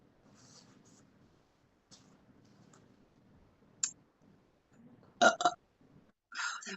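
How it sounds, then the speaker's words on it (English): A faint, weak burp from a person comes amid quiet low murmuring, followed by a few sharp clicks and short bursts of noise. "That was a lame burp."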